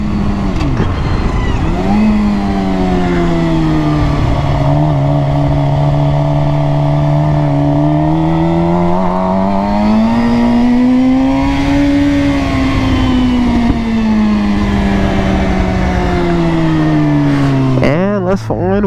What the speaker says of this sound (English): Oh, the gunshots coming on my exhaust.